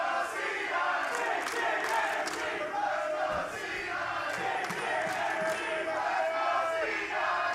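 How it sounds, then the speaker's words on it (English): A packed arena crowd at an LCS Summer Split esports match roars and cheers continuously, with scattered shouts and claps rising over the dense, sustained wall of noise. "I'm going to let the crowd do the talking."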